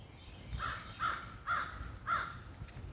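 Four evenly spaced caws from a crow, fairly faint and distant, over quiet outdoor background in a forest in the USA.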